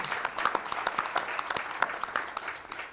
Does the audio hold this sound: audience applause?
yes